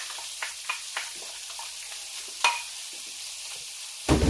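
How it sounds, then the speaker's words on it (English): Onions and chilies frying in oil in a pan, with a steady soft sizzle and a few spoon-stirring scrapes, and a louder clatter near the end. "We're going to fry off our onions and our chilies."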